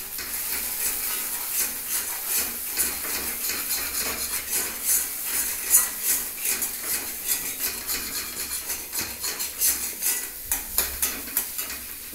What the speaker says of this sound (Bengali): তাই জন্য আগে ডিমটাকে আমি একটু ঝুড়ি ভাজা মতন করে নিচ্ছি